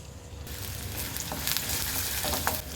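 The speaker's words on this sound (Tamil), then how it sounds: "எண்ணெய் சூடானதுக்கப்புறம் இதில் ஒரு வெங்காயம் சேர்த்துக்கிறேன்." Onion added to hot oil in a kadai sizzles and crackles steadily, a loud close frying hiss with some stirring, with no voices.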